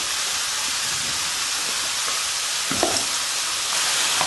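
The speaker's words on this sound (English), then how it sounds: "we're sauteing with mushrooms and getting them nice and brown and soft and delicious" Mushrooms sautéing in a pan, browning and softening, give a steady bright sizzle and hiss with a brief stirring scrape partway through, close and continuous with no talking.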